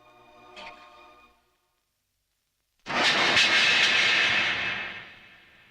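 Following a faint hum and a brief silence, a loud roaring rush of an airplane engine swells suddenly as the plane takes off, then slowly fades.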